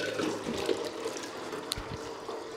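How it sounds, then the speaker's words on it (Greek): Water running from a village spring fountain on Tinos, a steady broadband rush that continues without a break, close and fairly loud, with a few faint bumps and no talk. "Α, φτάσαμε στην πηγή."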